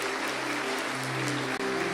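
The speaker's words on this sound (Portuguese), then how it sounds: "Podemos aplaudir o Senhor pela vida deles" A church congregation applauds, a continuous wash of clapping with a low hum underneath, steady and moderately distant, with a brief dip near the end.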